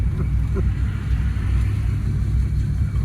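A 1979 Volare wagon, pulled from a junkyard after four years of sitting, rolls off with a low steady engine rumble, loud and continuous, without talk.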